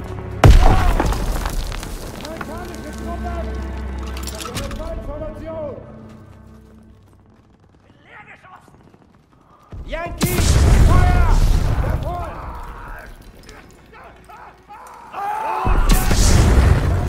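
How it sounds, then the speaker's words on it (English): Grenade explosions in Call of Duty WW2, loud booming blasts in separate bursts separated by quieter stretches, mixed with shouted game dialogue and battlefield noise. "Grenade out!"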